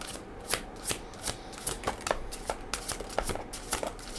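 A deck of oracle cards being shuffled by hand, a quick run of crisp riffling bursts in an uneven rhythm, close and fairly quiet, with no talking.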